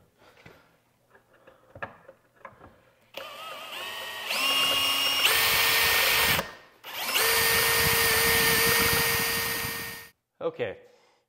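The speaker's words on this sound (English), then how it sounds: "We're now going to use our drill bit." A power drill bores a pilot hole for a lag bolt while mounting the spacer for an Enphase IQ EV charger, running loud and close in two long sustained bursts after some faint handling noises.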